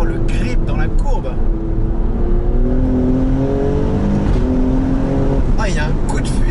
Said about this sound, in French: il y a un coup de fusil au passage de vitesse